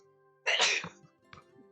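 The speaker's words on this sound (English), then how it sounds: "Ugh, this is so depressing. I sneeze." A single close, loud sneeze from the video game Amnesia Later, with a sharp breathy burst followed by a short, quieter exhalation after a brief pause.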